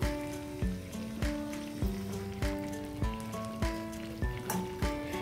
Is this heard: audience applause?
no